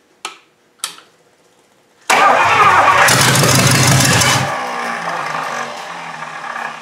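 A 1953 Hemi engine cranks with a couple of short clicks, then fires into a loud, rough roar that settles to a steady rumbling idle, close up.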